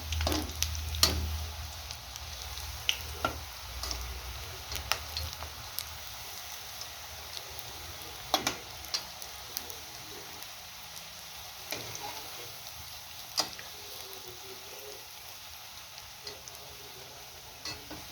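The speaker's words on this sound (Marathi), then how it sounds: "हे पहा मस्तपैकी लालसर कलर येईपर्यंत डीप फ्राय करून घेऊया" Spring onion bhaji fritters deep frying in hot oil, a quiet continuous sizzle and bubbling with occasional sharp pops and ticks from spatters, steady and close.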